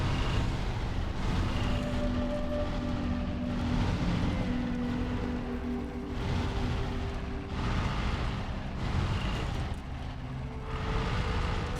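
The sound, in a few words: truck engine driving in SnowRunner video game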